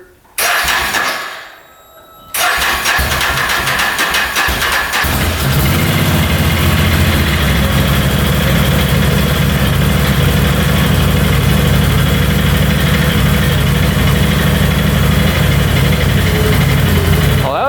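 A freshly rebuilt ATV engine cranks briefly, catches and settles into a steady, loud idle close by, with no one speaking over it.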